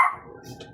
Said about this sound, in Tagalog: Sinasabayan pa tayo ng ating aso na tumahol.